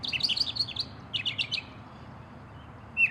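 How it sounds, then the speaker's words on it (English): Mockingbird singing in bursts of quick, varied bright chirps and phrases, two clusters of notes separated by a short pause, then a final brief call, fairly close over faint background hiss. "The answer is a mockingbird."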